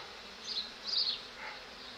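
Honeybees buzz close by around an open hive, the droning swelling and fading as insects pass near, with a steady hum of more bees beneath.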